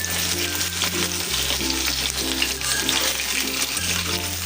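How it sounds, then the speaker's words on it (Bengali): Slices of pointed gourd fry in a pan with a steady, close sizzle, while background music plays beneath the continuous crackle. "আর পটলগুলো ভেজে নিতেছি"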